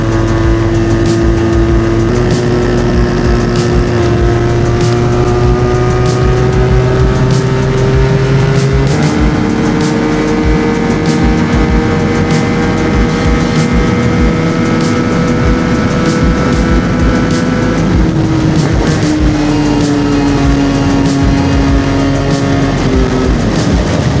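A QJ Motor SRK 250 RR motorcycle rides at speed in Malaysia, its loud engine droning continuously close by and rising in pitch through several gear changes, with heavy wind rush and no talking.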